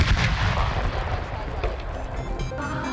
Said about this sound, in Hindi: वफाकी दारुल हुकूमत में 31 जबकि सूबाई दारुल हुकूमतों में 21 तोपों की सलामी।